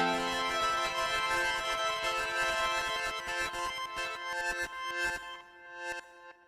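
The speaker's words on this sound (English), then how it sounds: "we get this really nice kind of bifurcation of our sound into two different octaves" Sonicware Texture Lab granular processor blending a dry sound with an octave-up granular copy, giving a dense, sustained harmonic tone with fluttering grainy texture that thins and breaks into choppy bursts near the end.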